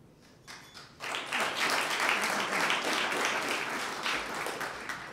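Audience applause fills a Phi Theta Kappa honor society ceremony at Merritt College, starting after a second of quiet and holding as steady, dense clapping from a sizable crowd.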